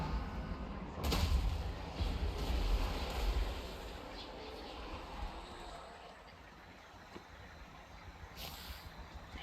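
Artillery fires in Total War: Warhammer 2 during a battle against zombies, a heavy boom followed by rumbling blasts and a sharp distant report later, with no talk over it.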